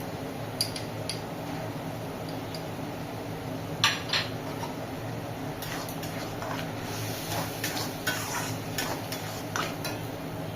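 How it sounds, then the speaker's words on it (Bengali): Spice masala with coriander, cumin and chili powder fries in a pan for chana masala, a low steady sizzle under scattered clinks and scrapes of a spoon stirring against metal. "এই মশলাটা 5 মিনিট লাল করে ভেজে নিতে হবে।"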